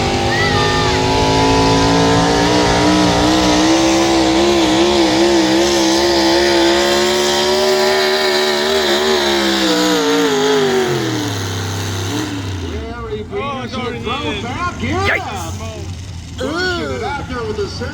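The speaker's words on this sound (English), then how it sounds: "Out there with the semi-Hemi, that new Goodman competition engine out of Wisconsin, a new design." A tractor-pulling machine powered by a semi-Hemi Goodman competition engine roars loudly and steadily, its pitch sliding down as it slows. The engine fades to a lower rumble while a voice talks over the noise.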